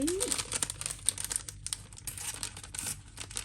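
Plastic packaging of a LOL Surprise OMG Remix doll is torn open slowly and close by, with crisp crinkling and ragged tearing running through the whole stretch and no clear talk.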